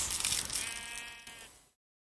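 A ram from the Minecraft mod pack FTB gives a single wavering, nasal bleat, fairly close and clear, fading out and ending abruptly.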